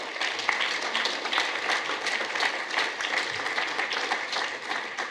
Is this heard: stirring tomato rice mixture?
no